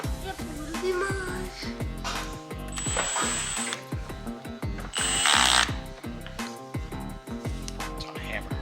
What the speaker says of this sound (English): We're gonna have to drill down a little bit more.